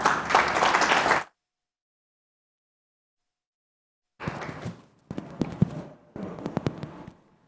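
Audience applause at a business panel event, coming in two bursts separated by a few seconds of silence, the later burst choppy with distinct sharp claps.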